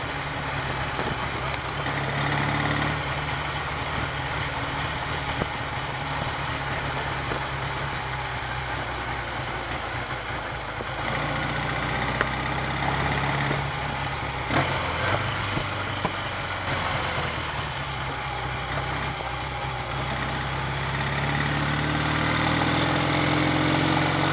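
A Triumph Tiger 100 motorcycle running with the choke shut at low throttle, a steady, loud, close engine drone that holds evenly throughout with no talking.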